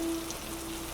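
Steady rain falling in a dense, even hiss, close and constant, with no voices.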